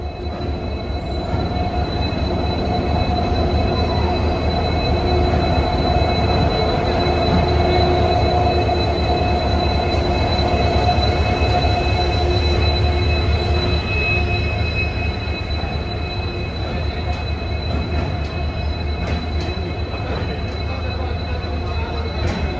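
A night passenger train runs steadily on the rails from Old Delhi toward Lucknow, a continuous close rumble with wheel and carriage noise and a faint high whine, loud and unbroken throughout with no talk.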